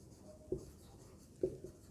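Two short taps of chalk or marker writing on a board during a linear equations lesson, faint and close against a quiet room.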